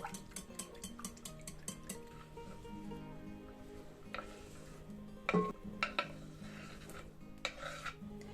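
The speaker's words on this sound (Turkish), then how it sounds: "Yoğurdumu iyice karıştırıyorum" Yogurt stirred in a bowl with a spoon, a run of quick clinks and scrapes against the bowl, then slower, irregular taps and rubbing, close and fairly quiet, no voices.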